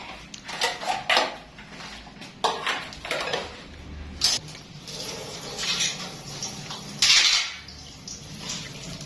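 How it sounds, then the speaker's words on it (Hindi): Dishes being washed by hand at home: repeated clinks and clatters of pots, plates and cutlery over running water, close and fairly loud, with no talking. "मुझे लगता है कि बर्तन धो रही हैं वो"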